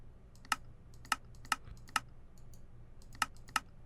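Mouse clicks and shift-clicks while playing Minecraft on a modded FTB Infinity server, heard as six sharp, evenly spaced clicks standing out clearly above a low background hum, with no talking.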